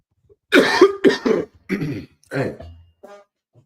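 A few harsh, close coughs and throat-clearing bursts in quick succession, loud against an otherwise quiet background.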